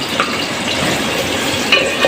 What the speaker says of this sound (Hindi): अब मैं इसमें डाल रही हूँ प्याज।